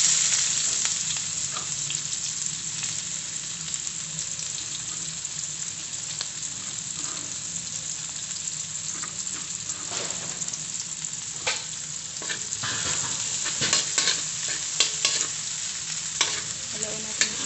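Sliced onions sizzle in a pan with corned beef while a utensil stirs and scrapes through them, a steady close frying hiss broken by frequent clacks, with no talking.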